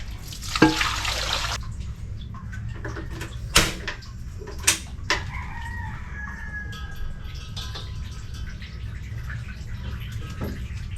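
Water pours briefly over food being washed in an outdoor home kitchen, a short rushing burst at the start. A rooster crows and chickens cluck in the background, with a few drips afterward.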